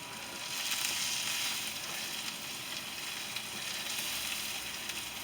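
Philly cheesesteak ingredients fry in freshly added oil, giving a steady, bright crackling sizzle that holds evenly throughout, close and moderately loud with no talking.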